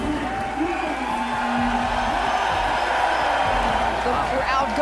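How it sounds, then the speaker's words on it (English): A basketball arena crowd at a FIBA World Cup game between Finland and Australia roars steadily during player introductions, a loud sustained cheer with an announcer talking over it. "The crowd going insane as Lauri Markkanen, the 26-year-old superstar, is now on the court."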